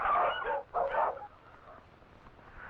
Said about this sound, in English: Our sled dogs are the only domestic animals we have.